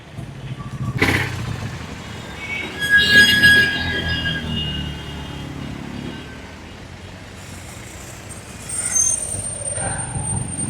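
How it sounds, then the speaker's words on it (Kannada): Busy road traffic in Prayagraj during the Kumbh Mela, with trucks and buses rumbling close by, a sharp air-brake hiss near the start and engine noise swelling again toward the end. "ಇದು ಒಂದು ಕಡೆಯ ಟ್ರಾಫಿಕ್"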